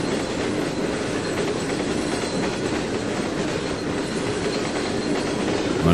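Freight train with tanker cars moving in the Trainz 2019 simulator, a continuous rolling rumble with clickety-clack wheel noise and faint squeal, steady and fairly loud throughout.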